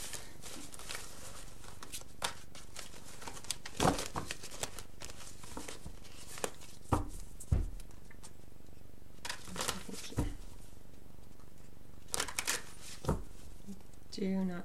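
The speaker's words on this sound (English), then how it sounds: "I just feel like the cards need to be shuffled more." Tarot cards being shuffled by hand, heard as repeated soft riffling and snapping bursts spread across the stretch, fairly close and quiet.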